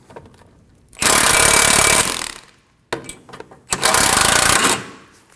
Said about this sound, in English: Remove the two 17mm bolts for the brace.